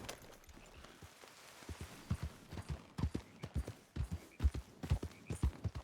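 Horse hooves clip-clop at a walking pace in the open world of Red Dead Redemption 2, a fairly quiet, uneven rhythm of soft thuds that grows steadier and more distinct over a few seconds.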